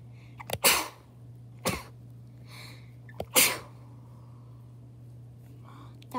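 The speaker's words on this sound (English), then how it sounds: "sneeze into my elbow because I'm allergic to dust" A person sneezes into an elbow, a few sharp, close bursts with short breathy sounds between them, in a quiet room with a steady low hum.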